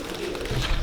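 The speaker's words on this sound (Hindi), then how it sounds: "भाई काशिफ ने कबूतर रखे हुए हैं।" Soft, low pigeon cooing close by, a brief murmuring coo against faint background noise.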